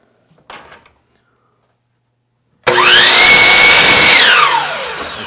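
Power saw cutting wooden fence trim in a fence-building production setup: a sudden loud, steady high-pitched whine of the blade biting through wood for about two seconds, then spinning down, after a brief knock and near silence.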